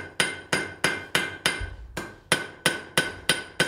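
Blacksmith hammer blows on hot steel over an anvil, ten sharp ringing strikes at a steady, slightly uneven rhythm, each with a short metallic ring, close and loud with no talking.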